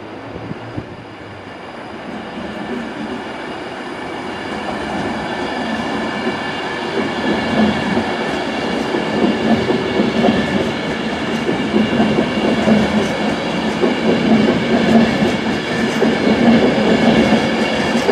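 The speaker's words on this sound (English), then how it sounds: "I think something's moving now because I hear the doors closing on the Pendolino." A Pendolino train pulls away from a station, its rumble and wheel noise steadily growing louder and continuing for the whole stretch, with no talking.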